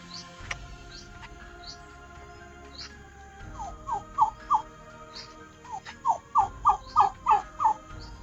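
A turkey gobbling in rapid bursts, several sharp warbling calls in two quick runs after a quieter start, fairly close and clear with no talking.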